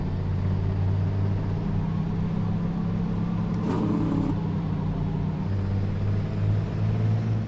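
A truck engine in sixth gear in American Truck Simulator holds a steady low droning rumble, constant and close with no clear revving, a faint higher whine passing through midway.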